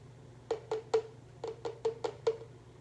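Pumped breast milk poured into a feeding bottle makes a quiet run of about eight short, rhythmic glugs, close and faint over a low steady hum, with no talking.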